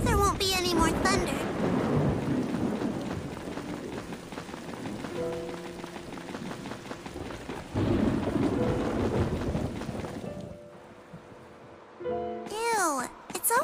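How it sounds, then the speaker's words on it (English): Rain falls steadily with rumbling thunder in the video game Tales of Xillia 2, heard under character dialogue and music, fading near the end before voices return. "hope there won't be any more thunder."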